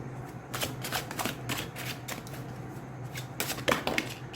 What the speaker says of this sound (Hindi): मैं पहले सारे कार्ड शफल कर लूँगी।